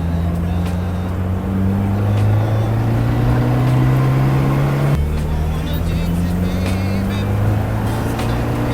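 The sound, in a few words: MG Midget MkIV roadster engine cornering faster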